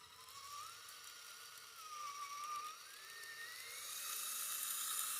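Electric motor of a Vaterra K10 RC truck running on a LiPo battery, a steady high whine rising and falling as the throttle varies, then climbing toward the end.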